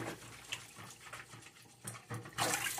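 Tap water runs faintly into a sink while dishes are washed, with soft intermittent splashing that grows into a louder, fuller gush near the end.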